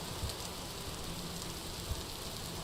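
Steady rain falling in the video game Vintage Story, a constant soft hiss of drops with a couple of faint low thumps and no voices.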